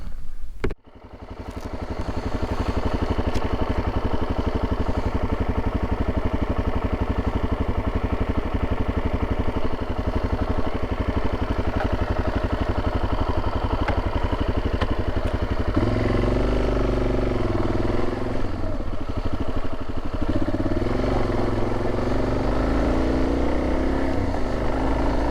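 Motorcycle engine droning steadily along the Trans America Trail near the Wawa Wilderness, loud and close from a start-up onward, with a deeper, rougher tone in the last stretch as it rides on.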